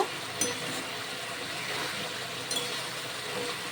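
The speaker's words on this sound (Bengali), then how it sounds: "মাছ সেদ্ধ করার জন্যই কিন্তু এই জলটা দেওয়া" Water poured into fish curry in a pan, a soft steady gushing and splashing of liquid, fairly quiet and close, with a couple of brief clinks.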